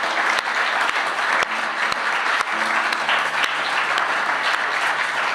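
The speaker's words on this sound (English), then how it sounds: "I'd like to give a big round of applause first to Chris and Joy" Sustained applause from a live concert audience at Old Songs, many hands clapping steadily at close range with a few sharp louder claps standing out.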